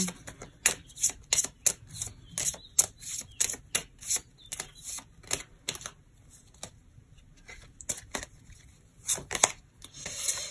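Deck of oracle cards being shuffled by hand at a tarot-style reading, with crisp rapid riffling and slapping bursts in irregular rhythm, close and fairly loud, with no speech.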